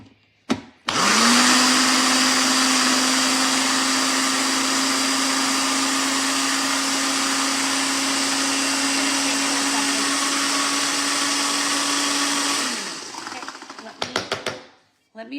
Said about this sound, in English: all I'm doing is I'm just kind of pureeing it